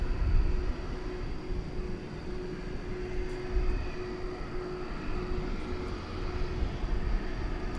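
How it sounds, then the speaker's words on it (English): MD-11 airliner taxiing and turning for takeoff at DFW Airport at night, a broad steady engine roar with a faint high whine, heard from a distance and fairly even throughout. "This is a 20th century MD-11."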